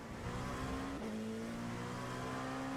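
A Corvette race car engine at speed in an iRacing IMSA Indy endurance race, a sustained loud droning whine with a brief dip and shift in pitch about a second in, then steady again.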